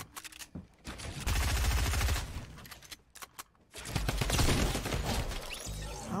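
Drum gun in Fortnite firing in two sustained rapid bursts separated by a brief pause, loud and close, with scattered sharp cracks around them.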